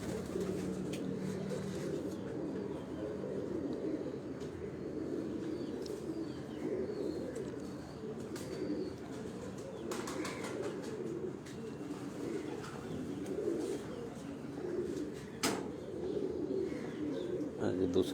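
Pigeons coo softly on a rooftop in Gujrat, Pakistan, where birds are being stamped, with low, repeated cooing and occasional chirps running under steady nearby conversation.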